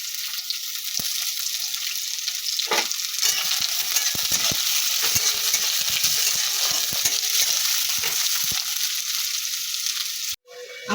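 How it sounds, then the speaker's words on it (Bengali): Onions fry in mustard oil with a loud, dense sizzle running steadily throughout, punctuated by stirring knocks and scrapes, ending with a brief break and a clatter. "পেঁয়াজ ভাজার জন্য সরষের তেল দিলাম।"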